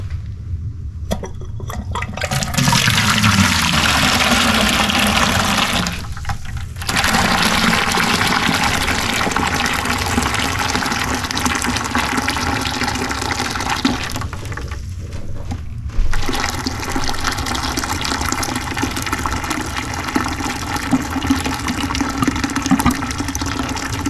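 Water gushes and rushes through a steam boiler during flushing and refilling, a loud, continuous flow broken by two brief pauses before it resumes, with no talking.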